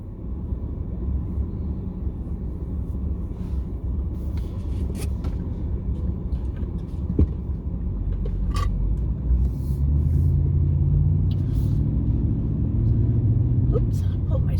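A battered car drives through town, its steady low engine rumble and road noise filling the cabin, growing slightly louder and heavier toward the end, with no talk over it.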